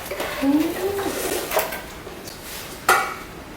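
Falcon enamelware plates are handled, giving a few sharp clinks and light knocks of enamel-coated metal against each other, with quieter shuffling between.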